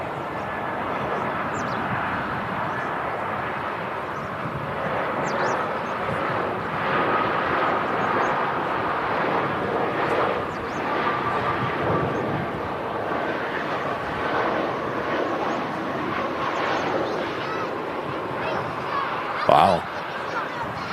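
A jet airliner on approach to land at Manchester Airport, its broad engine roar steady and loud throughout, with voices murmuring underneath and a brief sharp knock near the end.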